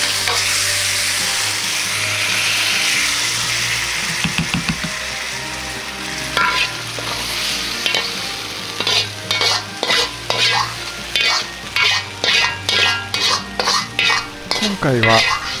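Mapo daikon being stir-fried in a pan to finish, with a continuous sizzle at first, then repeated rhythmic scraping strokes of a utensil stirring against the pan, close and clear.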